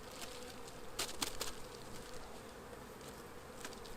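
Honey bees buzz in an open hive brood chamber with at least six frames of bees, a low, steady, faint drone with a few louder close passes.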